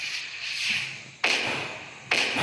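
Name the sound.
firecracker bursting in a Diwali fireworks video game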